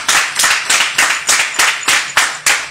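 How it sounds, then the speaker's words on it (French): A church congregation claps for Jesus in a steady rhythmic beat, about two loud claps per second, close and prominent with no voices over it. "Acclamons pour Jésus"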